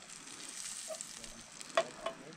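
Meat fries in very hot margarine with a soft, steady sizzle and crackle, a few sharper pops near the end, fairly quiet and close, without talk.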